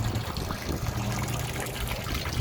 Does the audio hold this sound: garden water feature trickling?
yes